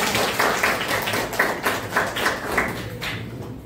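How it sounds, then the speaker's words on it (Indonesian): A classroom of students claps for two classmates in quick rhythmic bursts of moderate loudness, with a room echo. "tepuk tangan buat Yusuf dan Rangga"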